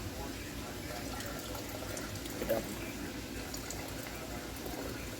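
Hot water runs and pours into a container for cleaning ammunition brass with a low, steady rushing and gurgle, fairly faint, with a brief splash midway.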